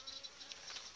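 Honey bees at a hive during winter oxalic acid treatment, a faint steady buzzing hum with overlapping individual bees droning close by, and no talking.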